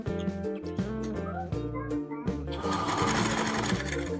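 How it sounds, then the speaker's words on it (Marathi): A sewing machine runs in short bursts then a longer steady whir while top-stitching blouse fabric, close and loud with a mechanical rattling drone. "आता वरून दाब सिलाई देणारी आस्ताच्या कपड्यावरती"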